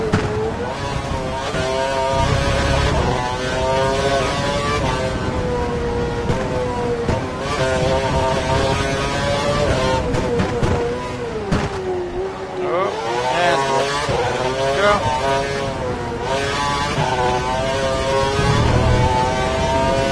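A racing car engine in a video game races steadily and loudly, its pitch climbing and dropping with repeated gear changes throughout.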